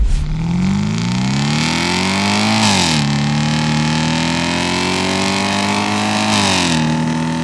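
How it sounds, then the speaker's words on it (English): Audi allroad V8 engine revving loudly up through rising harmonics, with two sharp gear-change dips around three and six and a half seconds, close and continuous without any talk. "then it was time to make some V8 noises"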